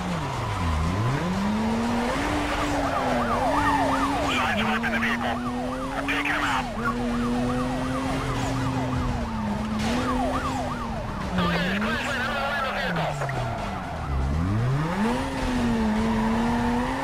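Police car sirens wail in the Need for Speed Most Wanted (2005) racing video game, a continuous rising and falling pitch sweeping through the full stretch over steady car engine noise, loud and close.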